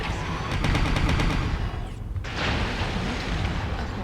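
A mech taking weapon fire in the video game MechWarrior Online, a dense roaring barrage of impacts and rumbling blasts with a brief dip midway, loud and continuous.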